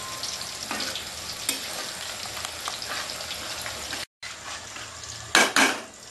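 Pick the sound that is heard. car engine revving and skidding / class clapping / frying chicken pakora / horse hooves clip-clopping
frying chicken pakora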